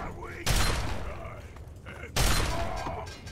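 Gunfire in the Fallout 3 video game, two sharp loud blasts about two seconds apart, each trailing off into a decaying rumble, with a voice talking faintly beneath.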